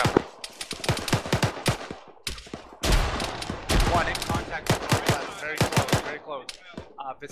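Video game gunfire on a hill assault: dense, sharp bursts of automatic shots in quick clusters, close and loud, with some overlapping fire from several weapons and brief pauses between volleys.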